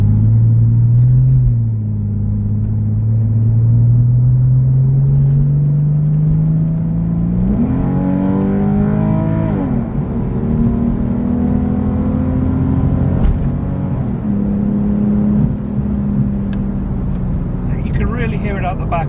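Porsche 996 with a valved aftermarket exhaust in loud mode, heard close as it climbs through the revs with rising pitch, drops back and pulls again, and someone talks over it.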